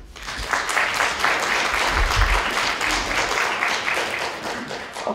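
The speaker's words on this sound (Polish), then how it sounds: "Brawa!" Audience applause for child reciters at a New Year concert for grandparents: a steady round of clapping that swells near the middle and then tapers off.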